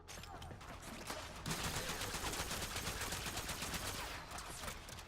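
An Attica crossbow in the game Warframe fires rapidly at two level-115 corrupted gunners, a continuous run of quick shots and impacts that swells after the first second and stays loud and dense.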